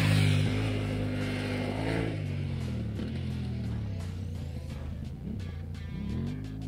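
A Yamaha Ténéré 700 motorcycle on Pirelli Scorpion tyres drones steadily while riding on road, its pitch dipping and climbing as gears shift, with wind rush across the whole stretch.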